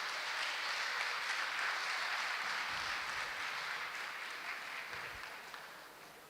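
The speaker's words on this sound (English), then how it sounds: "Please keep clapping for Hafsat." A conference audience claps in a dense, steady wash at a sexual-abuse awareness event, holding strong and then slowly fading toward the end.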